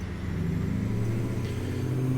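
A 1978 Mack ENDDT865 285hp truck engine in American Truck Simulator, giving a steady low rumble as it is revved, holding an even, fairly loud drone throughout.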